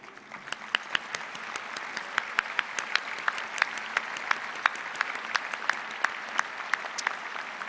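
Audience at a university graduate school commencement applauding the graduate faculty, a sustained round of dense, crisp clapping from a large crowd heard without any talking.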